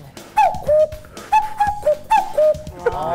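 A person whistles a two-note cuckoo call, repeated three times in a steady rhythm, close and clear, imitating the bird.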